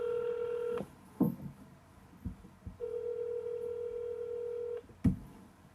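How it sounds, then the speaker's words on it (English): A series of telephone keypad tones on speakerphone beep one after another, interrupted by a steady dial-type tone, with faint clicks between presses. "we're going to call Allison from Middle Babe Mayhem. Put her on speaker so we can hear her"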